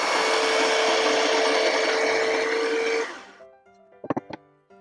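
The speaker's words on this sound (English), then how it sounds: "Now that I've marked the wood, it's time to cut the wood." A power saw cuts through wood for a flower box planter, a loud continuous whine for about three seconds that then stops, followed by a few short clicks.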